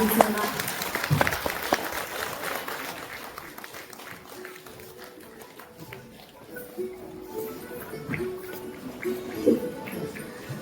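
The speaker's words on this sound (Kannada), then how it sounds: "ಜೋರಾದ ಚಪ್ಪಾಳೆಯೊಂದಿಗೆ ಸ್ವಾಗತಿಸೋಣ" Audience applause greets a visiting minister at a community function in Belagavi, a broad, steady clapping from a crowd that swells and fades over several seconds, with voices talking over it throughout.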